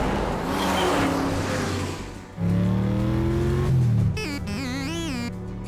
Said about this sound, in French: tu es très agréable à conduire, Bumblebee. Puissant, rapide et souple.